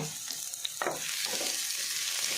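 Chopped onions frying in a pan for egg masala give a steady, close hiss of sizzling oil, with a few faint clinks of stirring and no voices.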